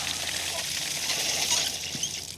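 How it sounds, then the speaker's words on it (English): Water rushes steadily out of pressure washer lines being flushed, a constant hissing spray close by with no talking. "I like to flush these lines out for a second."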